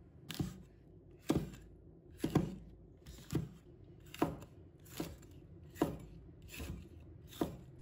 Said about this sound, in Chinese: 把它切成小块